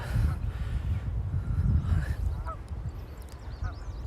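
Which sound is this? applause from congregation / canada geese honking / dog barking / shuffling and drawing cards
canada geese honking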